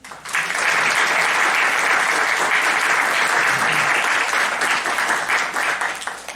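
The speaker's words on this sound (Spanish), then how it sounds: "Un aplauso, por favor." Audience at a university faculty anniversary event breaks into applause, a dense, steady burst of clapping that swells quickly, holds strongly for several seconds and tapers slightly near the end, with no talk over it.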